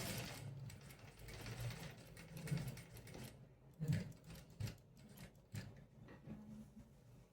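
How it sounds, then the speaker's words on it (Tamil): A sewing machine stitches along the pocket side of a kameez, quiet uneven bursts of mechanical whirring and clicking with short pauses between runs, heard close but faint. "தையல் நான் சைடில் எடுத்துகிட்டு போகிறேன், பாக்கெட் சைடு."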